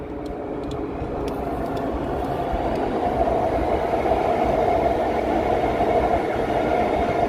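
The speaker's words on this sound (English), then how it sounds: "we got a nice plane taking off too" A jet airplane takes off in the distance, a rising, sustained roar that swells and holds steady, with rail activity nearby and no talking over it.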